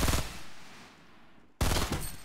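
Gunfire in Fortnite, a loud burst of rapid shots at the start, a brief lull with a fading tail, then another sharp, close burst of automatic fire.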